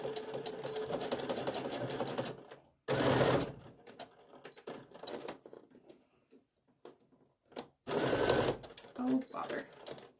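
Sewing machine stitching around the fabric of a stuffed Halloween ghost in two short loud bursts of whirring, with a person talking between and before the runs.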